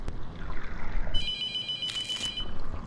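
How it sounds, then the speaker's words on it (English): A phone rings in the horror video game The Mortuary Assistant, a bright electronic trill that starts partway through and repeats over a low ambient game drone. "Phone's ringing."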